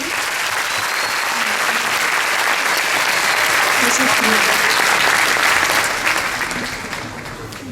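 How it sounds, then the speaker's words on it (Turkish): Audience applause after a Circassian dance performance at an association's year-end show in Ankara, a dense sustained round of clapping that swells and then fades near the end, with a brief spoken thanks over it. "bence bir kez daha alkışlarınızı alayım"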